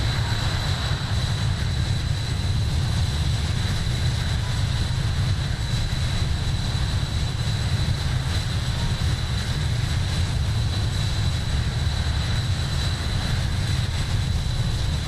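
Palita Air airliner engines in Microsoft Flight Simulator at Billund, a steady low jet hum with a constant high whine, even and unbroken throughout with no talk.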